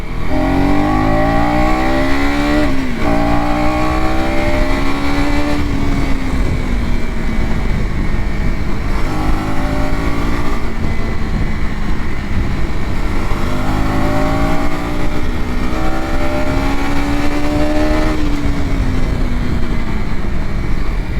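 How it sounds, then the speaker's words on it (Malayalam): A 2025 KTM Adventure 250 motorcycle revs hard and loud through repeated gear runs, the engine note climbing, dropping at each shift and climbing again, steady and close with no talking. "എന്തായാലും ഓഫ് റോഡ് വരുന്നതിന് മുമ്പായിട്ടൊന്ന് വണ്ടി കൈ കൊടുത്ത് നോക്കാം"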